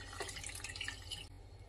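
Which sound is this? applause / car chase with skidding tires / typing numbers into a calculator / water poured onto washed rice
water poured onto washed rice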